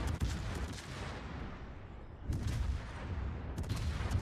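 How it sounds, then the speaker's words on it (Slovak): Gunfire in a tactical shooter game, dense rolling bursts of shots and booming explosions that swell and fade, loud and continuous with no speech. "A teraz tie krásne výstrely"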